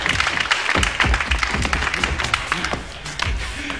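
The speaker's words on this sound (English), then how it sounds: "one hand clapping against the other makes a very nice sound for Sizzler and Sizzler." An audience claps enthusiastically, dense rapid applause filling the clip, loud and close, with a few sharper claps standing out.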